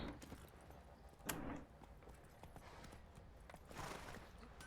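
Roach the horse in The Witcher 3 sets off, with soft hoof clip-clops and gear rattles running steadily under faint game ambience, a brief louder thud near the start.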